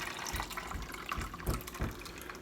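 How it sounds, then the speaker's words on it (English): Water pours into a container for soaking sweet potato cuttings, making a steady splashing gurgle with a few louder sloshes near the end. Close and fairly quiet, with no talking. "I'm just going to fill this up with water."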